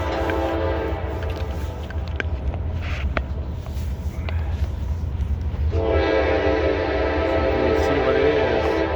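A CSX freight train passes near a rail yard at Brunswick, with a steady loud rumble throughout and a sustained horn tone swelling strongly in the second half; a voice speaks briefly over it.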